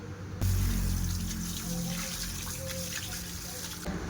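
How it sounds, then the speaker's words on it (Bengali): Steady running tap water splashing in a kitchen sink while fish is rinsed under it, constant and close, with faint handling noise and no talking. "এবার মাছ ধুবো।"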